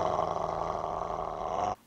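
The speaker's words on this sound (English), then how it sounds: "Oh, the new dog." A dog growls in a scene from the film The Omen, a low sustained rumbling snarl that is loud and continuous, then cuts off abruptly near the end.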